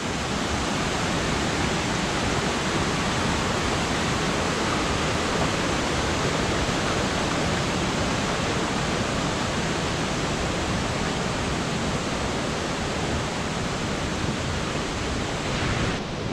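Tat Sae Leu waterfall in Laos roars continuously, a dense, even rush of falling water that stays loud and unchanging from start to finish.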